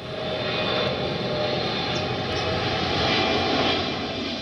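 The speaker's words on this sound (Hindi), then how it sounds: "छतों के ठीक ऊपर से उड़ने वाले इन विमानों का शोर" Airplanes fly low over the rooftops of a leafy upscale residential neighbourhood, a loud, steady engine roar that swells gradually and fills the whole stretch without a break.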